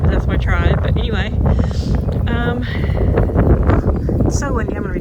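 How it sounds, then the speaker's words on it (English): Strong wind buffets the microphone in heavy, continuous rumbling gusts outdoors on Choctaw land in the mountains, while a person talks over it. "it's so windy"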